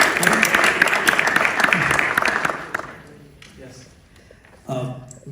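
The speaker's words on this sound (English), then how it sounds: "Let's give them a round of applause." A crowd claps loudly for a few seconds at a City of Frisco proclamation event, the applause fading out, followed by a person beginning to speak.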